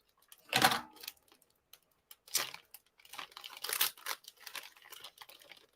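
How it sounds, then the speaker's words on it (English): A taped paper note being ripped and torn open, a loud crinkling rip followed by several bursts of tearing and crumpling paper, close and intermittent with quiet gaps. "You've taped it, so I'm going to probably rip it in half."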